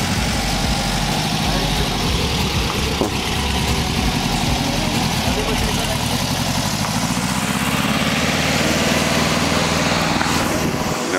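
An old air-cooled engine in a 1960 Volkswagen split-window bus idles with a steady, rattling chug, running continuously at close range with a slightly uneven beat from an ignition problem.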